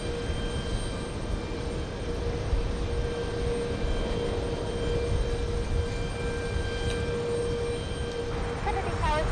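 A Boeing 787 jet airliner at JFK airport produces a continuous broadband engine roar with steady tonal whine. It holds even and loud throughout while radio chatter and voices talk over it.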